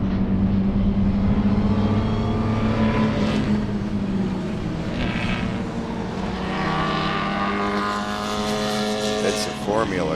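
Formula race cars run past at Sebring in an SCCA race, engines droning and whining as they pass at a distance in a long, continuous wash of motor noise.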